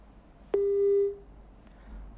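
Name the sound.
phone call disconnected tone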